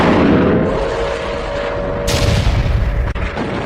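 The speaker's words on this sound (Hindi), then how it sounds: "मिसाइलें चल रही हैं, गोले दग रहे हैं" Artillery shells and missiles firing in the Russia–Ukraine war, heard as a dense, continuous roar of distant booms and gunfire rumbling throughout, with a brighter blast-like surge midway and a sharp crack near the end.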